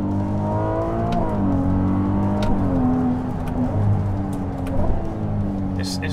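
Ferrari 296 GTB engine revving hard on a racing circuit, a loud continuous rising and falling engine note with quick shifts, close and steady throughout.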